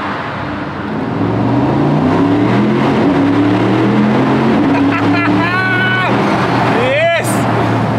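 A Mercedes-AMG SL 55 convertible's V8 engine climbs hard under acceleration, a loud rising drone with quick gear-shift steps, while people talk and cheer excitedly over it.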